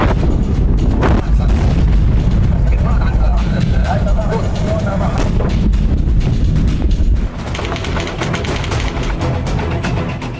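The massive explosion in Beirut, Lebanon, comes through as heavy, sustained low booming and rumbling with a sharp drop near the end, while a narrator talks over it.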